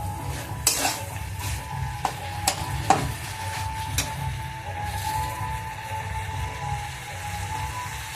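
Boiled potatoes stir-fried dry in a pan over raised gas heat, with a steady low sizzle and scattered sharp clinks of a spatula scraping and tapping the pan.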